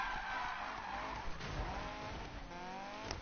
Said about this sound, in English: Oh, nice drift